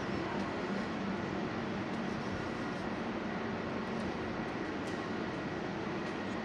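Ambience on a platform of the Katowice local train station, a steady low rumbling hum with faint distant clanks and no clear voices throughout.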